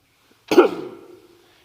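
A single sharp cough bursts out close by, then trails off quickly into silence.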